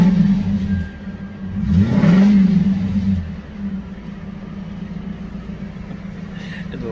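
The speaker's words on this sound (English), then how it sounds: "we're about to start this car after putting that seafoam in the motor" A Lexus LS400 engine starts after a Seafoam treatment, cranking and catching with a brief rev, then settling into a steady low idle up close.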